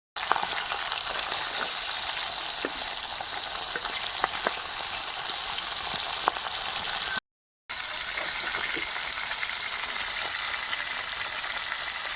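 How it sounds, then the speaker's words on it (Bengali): A catla fish head rubbed with salt and turmeric fries in hot mustard oil in a kadai, giving a steady close sizzle with scattered small pops and a brief break partway through, with no talking. "মাছের মাথা খুব সুন্দর করে ভেজে নিয়েছি"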